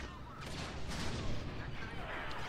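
Blaster and gunfire bursts from a Star Wars Battlefront 2 match on the modded Rezzed Naboo map, a dense, continuous barrage of shots and booms with a voice talking over the din.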